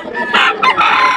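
A Kelso gamefowl rooster at a Bocaue farm crows once in a short, bright burst lasting about a second. It is fairly loud and close, with no voices.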